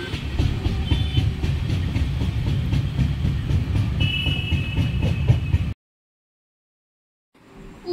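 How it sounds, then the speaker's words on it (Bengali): A train leaving Kolkata station bound for Durgapur rumbles steadily with rail clatter and engine noise, loud and continuous, then cuts to near silence before a faint return. "এই যে কলকাতা স্টেশন থেকে দুর্গাপুর আসার জন্য আমার ট্রেন ছেড়ে দিয়েছে"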